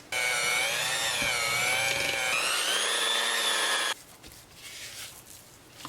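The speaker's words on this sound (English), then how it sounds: "we're gonna mix that with just a handheld mixer or a stand-up mixer for about 2 minutes until it's all whipped together" A handheld electric mixer whips brown and white sugar with a loud, steady motor whine for about four seconds, then cuts off abruptly, leaving quiet room noise.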